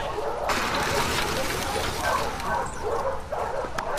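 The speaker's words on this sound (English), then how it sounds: "You crazy dog." In-game dog from The Last of Us Part II barks and yips amid dense, loud ambient game noise, with short excited bursts spread through the stretch.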